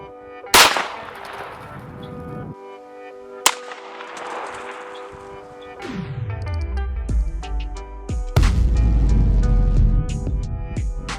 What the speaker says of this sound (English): So up next we are shooting 60 cards.